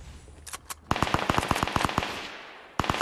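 Fortnite gunfire: a couple of quick shots, then a rapid automatic burst of a dozen or so cracks, and a final burst starting at the end, fairly close and loud.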